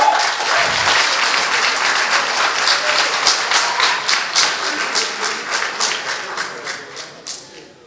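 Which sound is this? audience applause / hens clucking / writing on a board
audience applause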